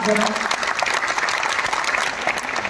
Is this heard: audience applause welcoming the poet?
yes